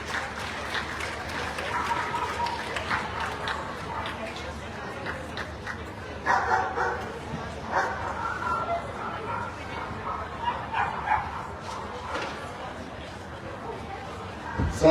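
Dogs barking at a toy group dog show ring, scattered yaps over crowd applause and chatter in a large indoor hall, with a voice on the PA speaking throughout.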